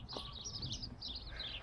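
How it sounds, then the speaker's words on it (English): Birds chirp outdoors in a city in Iraq, a steady run of faint, high twittering calls over low background rumble with no talk. "And there's birds chirping."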